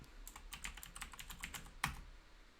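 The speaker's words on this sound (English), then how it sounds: "let's see if we type Adobe" Quick bursts of keystrokes on a computer keyboard as a search is typed, close and quiet, with a slightly louder key strike near the end and no talk.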